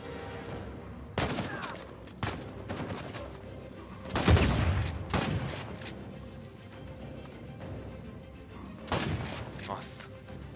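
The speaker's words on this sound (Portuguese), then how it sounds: "Tem um sniper atirando em mim." Sniper fire in the video game Uncharted 4, several sharp, loud gunshot cracks with irregular spacing and a heavier blast in the middle, mixed with someone talking.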